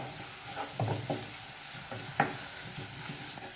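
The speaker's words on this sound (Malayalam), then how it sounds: "അതിനുശേഷം ഈ ഉള്ളി നന്നായിട്ട് ഒന്ന് ഫ്രൈ ആയിട്ട് വരട്ടെ" Onions and crushed green chili fry on a low flame under a soft, constant sizzle, broken by a few close, quiet stirring scrapes and one sharper knock against the pan.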